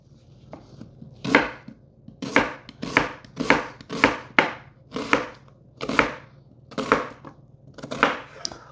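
Knife chopping onions on a board for salsa canning, a steady run of about a dozen sharp, close chops at an even pace, with a low background hum and no talk.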